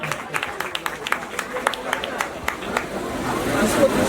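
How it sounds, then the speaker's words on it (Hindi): An audience at a school prize distribution ceremony applauds with steady clapping, moderately loud and growing fuller toward the end, amid crowd murmur. "जोरदार तालियां बजते रहे"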